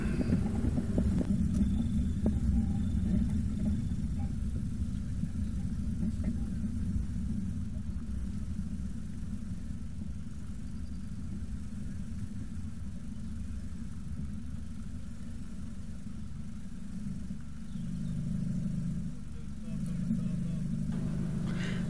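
A motorcycle engine rumbles steadily as the bike rides off from a rally field, a close, continuous low drone with a voice talking over it at points.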